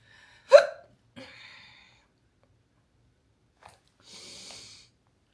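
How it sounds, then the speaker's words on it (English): Hiccups from a person at home, a sharp loud hic followed by a softer second one, then a brief click and a faint breathy rustle, with no talking. "I have the hiccups."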